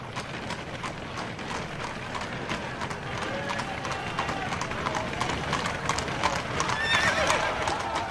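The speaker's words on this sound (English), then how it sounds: "bearing Wenceslas's body entered Prague, the horses suddenly stopped in front of the main prison." Horses' hooves clip-clop steadily along a street while pulling a horse-drawn hearse into Prague, with an occasional whinny or neigh. The hoofbeats are close and continuous under a busy background, and a louder neigh rings out near the end.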